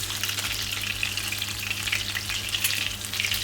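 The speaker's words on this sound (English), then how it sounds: "now we're going to quickly squeeze 3 cloves of garlic into the butter" Garlic cloves sizzling in melted butter in a pan, a steady, close crackle of frying that runs on its own without pause.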